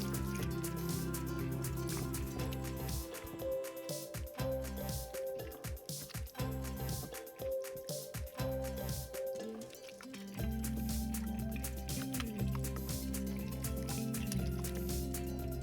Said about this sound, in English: Now all you need to do is add water and stir.